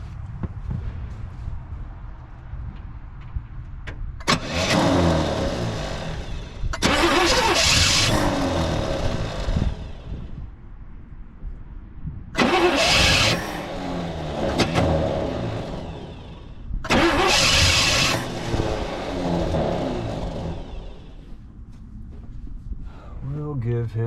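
A 1966 Pontiac Grand Prix barn-find engine, hand drip-fed with fuel, cranks and catches in four loud, roaring bursts of a few seconds each, with a quieter rumble and talking in the gaps between.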